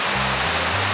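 A big waterfall roars as a loud, unbroken wash of rushing water, with a low steady hum beneath it.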